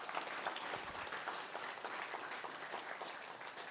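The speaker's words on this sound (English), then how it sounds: "So let's give her a round of applause." An audience at a guide dog class graduation claps for apprentice instructor Christina Cherry, a dense, steady round of applause from a crowd, moderately distant and continuous throughout.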